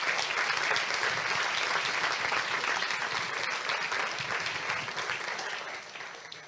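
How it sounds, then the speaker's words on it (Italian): An audience at a live public event in Italy claps loudly for the mayor, a dense, steady applause that fades slightly in the last seconds. "Gli facciamo un bel applauso al sindaco."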